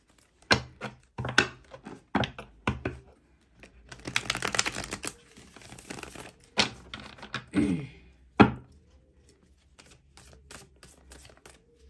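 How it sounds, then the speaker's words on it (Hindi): Tarot cards are shuffled close to the microphone in bursts of riffling and slapping, with short pauses in between and a longer flurry in the middle. "One more shuffling."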